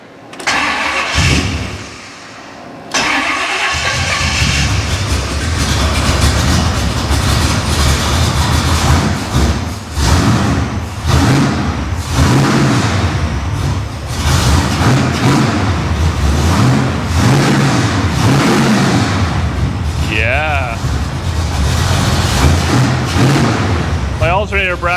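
A supercharged 1955 Chevrolet Nomad engine, primed with fuel poured into the carburetor, cranks after a brief lull and then fires, running roughly with repeated loud revs and uneven surges, with faint voices in the background.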